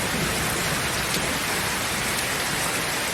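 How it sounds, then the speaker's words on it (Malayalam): Steady, dense rain falling, a broad continuous hiss with no pauses or other sounds. "എന്തോ മഴയാണ്"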